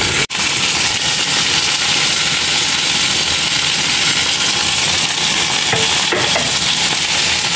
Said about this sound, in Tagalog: pagkatapos nating ilagay yung ating potato at carrots, mix lang natin